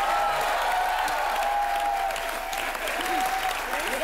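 A studio audience at a Hindi comedy talk show breaks into loud, sustained applause, a dense wall of clapping with some cheering, while a voice talks over it.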